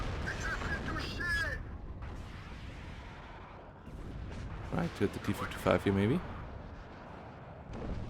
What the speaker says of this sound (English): Ooh, beautiful new explosions.